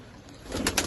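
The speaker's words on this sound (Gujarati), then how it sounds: "આ બધા આપણા કબૂતર મિત્રો." Pigeons at a farm, a short, faint bit of cooing that swells near the end, heard alone with no talk.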